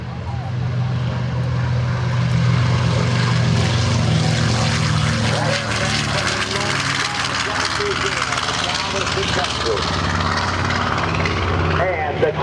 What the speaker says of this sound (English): Back in on the takeoff roll, the B-25, the Mitchell Bomber